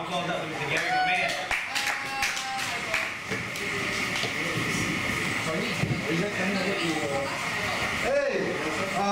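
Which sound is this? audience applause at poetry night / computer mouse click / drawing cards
audience applause at poetry night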